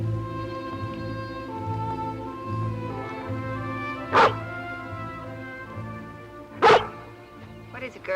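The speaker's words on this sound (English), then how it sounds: "if it were Uncle Petrie, she wouldn't have barked" A dog in an animated series barks twice, sharp and loud, over a steady musical score and background.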